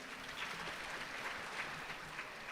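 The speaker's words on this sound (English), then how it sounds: "Please give her a round of applause, too." Audience applause at a health sector event, a steady wash of many hands clapping together, moderately distant and even in level throughout.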